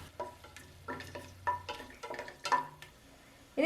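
Cinnamon, cloves, star anise and cardamom sautéing in a pan for cooker biriyani: a spatula scrapes and stirs in uneven strokes with a light sizzle, close by and without talk.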